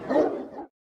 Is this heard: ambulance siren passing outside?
no